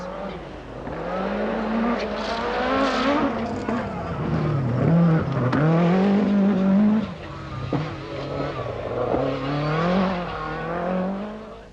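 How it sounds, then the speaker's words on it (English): A 1985 Lancia Delta S4 rally car on a stage of the Lombard RAC Rally accelerates hard, its engine note rising and falling through repeated gear changes, loud and close, with a commentator talking over it. "Marco Allen in the Lancia Delta S Sport. Look at the power coming down."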